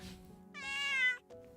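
A cat in the video game Little Witch in the Woods lets out a single clear, drawn-out meow, fairly close and soft, over quiet game background music.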